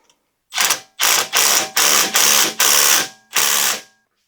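Ratchet wrench tightening a brake caliper bolt with crush washers on a 2015 Chevrolet Malibu rear brake, six loud, close bursts of rapid clicking in an even rhythm, with no talk.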